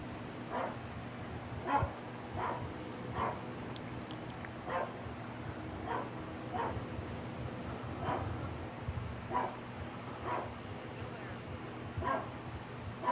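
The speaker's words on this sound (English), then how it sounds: "Dang, dogs are barking at nothing again." Dogs bark in a steady string of yips and woofs roughly every half second to a second. Low mechanical droning from a truck race broadcast runs beneath them, and the barking sounds nearby but fairly soft.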